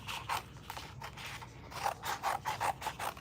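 Scissors snip through a vinyl sheet for a glitter mermaid craft, a close run of quick crisp cuts that speeds into a steady rhythm toward the end, with no voices.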